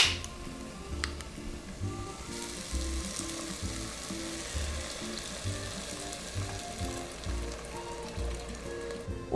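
Dark beer hitting a pan of sizzling sautéed aromatics while maminha in beer sauce is being cooked, a steady broadband frying hiss with irregular bubbling pops running throughout, close and moderately loud with no talking.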